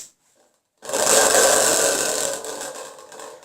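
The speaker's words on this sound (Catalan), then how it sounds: "Podem fer sonar una capsa de trons," After a brief silence, a thunder tube's sustained rumbling, rattling metallic roar surges in loudly, then slowly fades with a fluttering, jittery texture.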